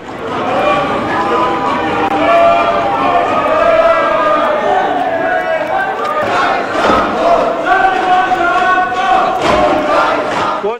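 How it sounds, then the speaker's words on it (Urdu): Opposition members in Pakistan's National Assembly chant slogans and bang on desks in protest, a loud crowd of overlapping rhythmic shouts with thumping knocks running throughout. "اپوزیشن ارکان نے ایجنڈے کی کاپیاں پھاڑ دیں، ڈیسکیں بجائیں، او کی آوازیں نکالی اور بانی پی ٹی آئی کی رہائی کے لیے نعرے لگائے"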